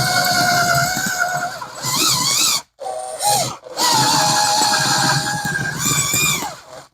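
Power drill boring into a Samsonite suitcase with a 1/4 inch bit: a loud, steady whining motor runs continuously, broken by two short pauses and pitch dips as the bit bites and spins.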